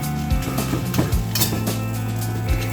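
Leftover rice stir-fried with naem (Thai fermented pork) sizzles in a hot wok while a metal spatula scrapes and clinks against the pan bottom in quick, repeated strokes.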